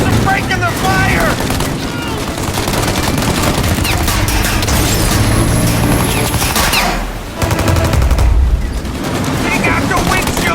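Shootout gunfire in the game Mafia: Definitive Edition, with dense overlapping automatic fire, booming impacts and engine noise going on without a break, loud and close, while voices shout over the battle.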